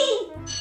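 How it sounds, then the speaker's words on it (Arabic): A telephone rings in a home, a bright electronic tone with strong steady harmonics that switches pitch partway through the short burst, loud and close. "تليفون كيصوني"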